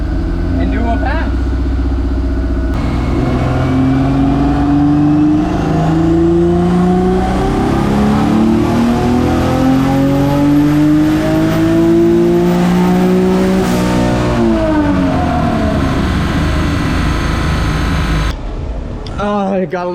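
A twin-engine Suicide MX3 on a dyno running 94 pump fuel makes a loud full-throttle pass, the engine note climbing steadily to the limiter before cutting back abruptly.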